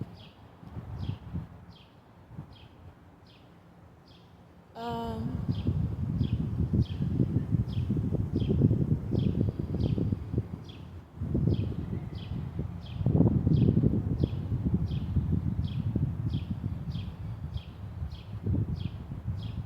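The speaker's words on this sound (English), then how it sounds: "I apologize right now for the wind." Wind buffets an outdoor microphone in heavy, continuous low rumbling gusts with a short calmer stretch near the start, while a repeating high chirping from birds or insects ticks along faintly in the background.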